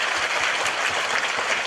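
Dense, sustained applause from a crowd at a Tokyo fan meeting during the 2016 JCW Autumn Festival, many hands clapping at once in an even, loud wash.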